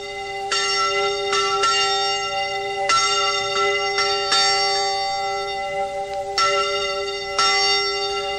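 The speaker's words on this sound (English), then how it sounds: "when the mission bell rings, the villagers understand that the first Iditarod musher has arrived" Mission church bell in a village ringing out steadily, repeated resonant strikes with long overlapping ringing tones, clear and alone with no voices.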